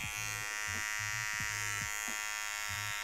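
Electric hair trimmer buzzing in short repeated bursts close up while a barber cuts freestyle finishing lines into a fade haircut, with steady high buzz between passes.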